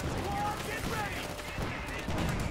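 Anti-tank guns and other gunfire from a World War II real-time strategy game, Company of Heroes 2, crackling in a dense, continuous battle mix under a steady wash of game sound, with no clear separate reports.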